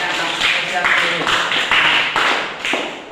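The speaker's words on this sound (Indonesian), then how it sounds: "Nah, berikan tepuk tangan." An audience applauding in a classroom-style gathering, a few seconds of steady, fairly close clapping with some talk mixed in.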